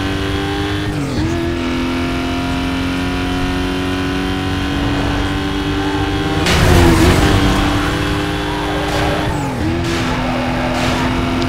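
Ford Pampa pickup engine in the NFS Most Wanted racing game, a steady loud drone that climbs and drops through gear shifts, with a louder swelling pass midway and continuous engine roar throughout.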